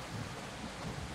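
Rain with rumbling thunder in the survival video game Project Castaway; a brief, faint wash of steady downpour with a low thunder roll underneath, no voices.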